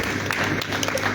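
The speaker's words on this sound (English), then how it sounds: "Please give the SDI and civil society another round of applause." Audience applause fills a hall at a national forestry forum, a dense, continuous round of clapping with faint crowd murmur mixed in.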